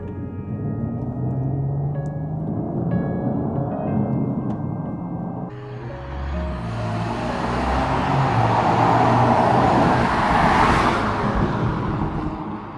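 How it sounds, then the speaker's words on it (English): A supercharged V6 car engine, a steady low rumble that swells into a louder, rising roar and whine about halfway through, heard alone without talk. "Sometimes it's lived behind V6 engines supercharged, which can give you this effect."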